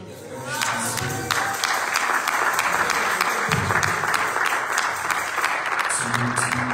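A church congregation applauding Jesus, a dense, sustained wave of clapping from many hands, loud and close, with a voice speaking briefly over it at the start and end.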